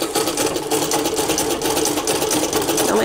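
A treadle-powered sewing machine stitching cotton runs steadily and close by, a fast, even mechanical whir and clatter that holds throughout without pause.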